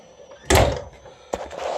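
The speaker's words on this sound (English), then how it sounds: "Let me shut this door." Door on a shaved ice stand pulled shut, a close thump with rattling followed by a second lighter knock and clatter, outdoors with some wind.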